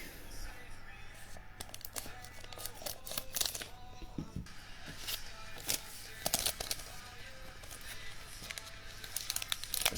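A trading card pack is torn and crinkled open up close, with scattered crisp rustles, foil crackles and sharper ripping bursts over about ten seconds at low volume.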